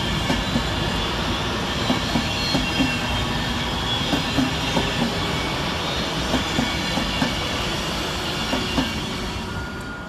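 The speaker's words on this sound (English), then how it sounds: "Whilst arriving at the same time, the cross-country is 220025, working the 1413 cross-country service from Manchester Piccadilly to Bristol Temple Meads." A CrossCountry Class 220 Voyager train arriving at Stockport station on a Manchester Piccadilly to Bristol Temple Meads service, with a steady loud rumble, rhythmic wheel clatter over rail joints and faint squealing throughout, no voices.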